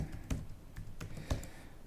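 Code being typed on a computer keyboard, a quiet run of irregular key clicks with a few sharper, heavier taps standing out, close and alone.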